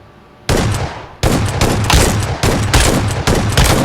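Loud shotgun blasts from a video game, a sharp opening shot followed by a rapid string of heavy, closely spaced booms filling the clip.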